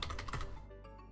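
Fingers typing on a computer keyboard, a quick run of close, light clicks and taps that fades into a brief pause.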